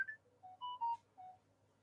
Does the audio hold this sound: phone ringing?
yes